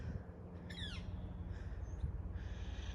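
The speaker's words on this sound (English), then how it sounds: "There's so many interesting birds around here." Outdoor ambience at the Fort Stevens historic military site, with a brief burst of descending bird calls early on, then faint chirps over a steady low background rumble.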